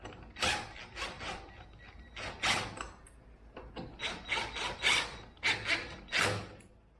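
A ratchet wrench tightens the mount of an LED whip light on a Polaris RZR, giving repeated bursts of clicking strokes with short pauses between them, close up and fairly loud.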